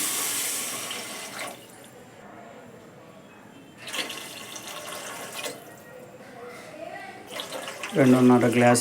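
Water runs and splashes in bursts into a pot of fried rice grains, with a brief louder gush near the end; quiet kitchen background between pours.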